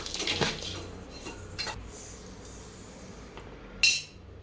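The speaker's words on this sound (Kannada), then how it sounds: "ಸೊ ಅಕ್ಕಿನೆಲ್ಲ ಮಿಕ್ಸ್ ಮಾಡ್ತಾಯಿದ್ದೀನಿ." A spoon scrapes and clanks against a pot while rice is mixed, with a few sharp metallic knocks standing out over quieter scraping, close and alone.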